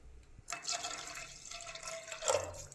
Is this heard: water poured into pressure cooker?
yes